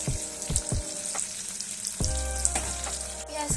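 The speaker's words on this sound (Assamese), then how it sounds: "পিঁয়াজখিনি অলপ ভাজা হৈ থাকোঁতে মই তাতে পাঁচফোৰণ অলপ দি দিলোঁ" Onions, green chilli and bay leaf sizzle and spit in hot oil in a home kitchen pan for an Assamese chicken dish, with steady crackling frying and a few sharp clatters near the start.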